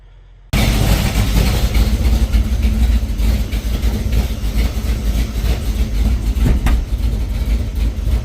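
A Ford Falcon XB GS hardtop engine starts and runs very rich with an odd mechanical noise, a loud, steady, rough idle with a faint rhythmic knock that carries on without a break.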